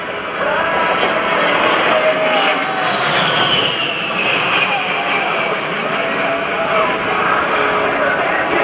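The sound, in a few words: A-10 Thunderbolt II jet flying demonstration pass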